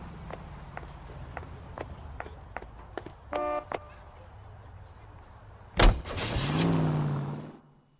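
A car in LA Noire: footsteps and door sounds, then a door slams shut and the engine starts, rising into a steady hum as the vehicle pulls away near and loud.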